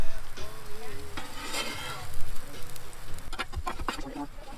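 Chicken quesadillas frying in a pan at a campground cookout, sizzling steadily with scraping and clattering as they are stirred and flipped with spatulas, close by, with birds chirping faintly in the background.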